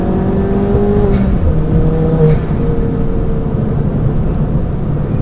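A 310 bhp Ford Fiesta ST accelerates hard in second gear, its engine droning loud and close with a rising, strained note heard from inside the car.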